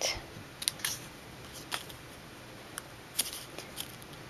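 Scissors snipping paper for punch art, shaping a small paper Batman figure: a few faint, crisp snips scattered irregularly at close range over a quiet background, with no talking.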